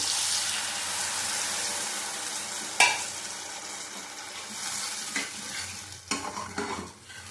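Water is poured into a frying tengra fish curry (jhal), producing a loud, steady hiss of sizzling that slowly fades, broken by a few sharp splashes and clatters near the end.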